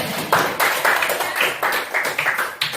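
Students clap in a classroom at the end of a fried rice cooking lesson, giving a steady run of fairly close, rhythmic bursts with no talking over it.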